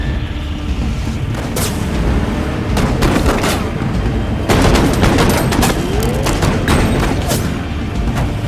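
Dense bursts of gunfire from a Houston police shootout, rapid overlapping shots cracking and booming over a loud, noisy background, captured on a recording with no clear speech.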